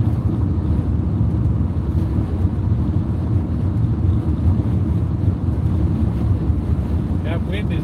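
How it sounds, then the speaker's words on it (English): Steady wind buffeting a moving vehicle at about 50 mph, a continuous low roar of air noise that fills the whole stretch without letup, with no clear voices over it. "Wind is definitely picking up now. Maybe you can hear it."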